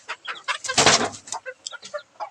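A chicken clucks close by in quick, choppy bursts, with one louder squawk near the start.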